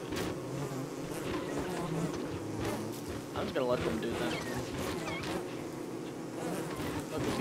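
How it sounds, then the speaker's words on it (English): Insect buzzing from bees in the video game Don't Starve Together, a busy wavering drone with scattered impacts, under a person talking. "Let the bees handle it."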